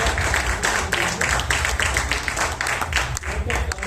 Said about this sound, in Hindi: एक बार जरा जोरदार तालियां बजाने